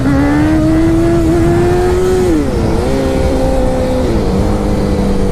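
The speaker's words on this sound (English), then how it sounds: "So that's a power wheelie." A motorcycle accelerates hard into a power wheelie, its engine note climbing loud and close, then dropping and settling into a steadier lower drone as the ride continues.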